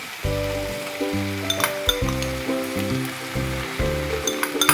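Grated coconut is added to frying taro and prawn curry: a steady sizzle with a low, humming, pulsing tone beneath it and light clinks toward the end.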